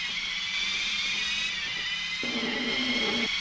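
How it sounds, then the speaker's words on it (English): A steady, thin, buzzing whine like a weak electric motor drones on, with a lower rumbling layer kicking in toward the end: glitched car engine sounds in a PS1 racing game. "all the car engines on my disc copy sound like a screwdriver about to run out of battery"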